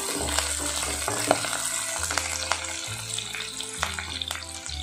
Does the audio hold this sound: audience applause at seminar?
no